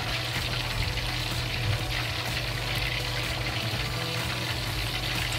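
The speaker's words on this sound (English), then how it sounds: "So fry it, and slowly fry until the meat is fully cooked." Garlic pork ribs fry in very hot oil in a pot, a dense continuous sizzle and crackle that stays steady and close without pause.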